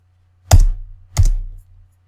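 Two separate keystrokes on a computer keyboard with caps lock on, close and fairly loud, about two-thirds of a second apart over a low background hum, with no talking.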